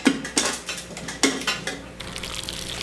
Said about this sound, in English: So I'm just going to put these skewers in, just like so.